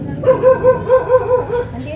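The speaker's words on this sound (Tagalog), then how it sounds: "Oh, aso." A dog barks in a steady run of about seven quick, evenly spaced yaps, fairly close and loud, outdoors by a house.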